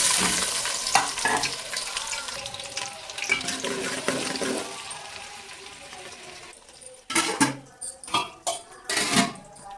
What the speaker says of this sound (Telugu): తర్వాత చికెన్ కర్రీలోకి అయితే ఆనియన్స్ వేస్తున్నానండి